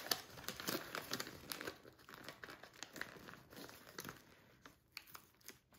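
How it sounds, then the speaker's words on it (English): Green wrapping paper is ripped off a package containing canvases, heard as a quiet run of crinkling and tearing crackles in irregular bursts, close by with no talking. "So I will rip this beautiful green paper"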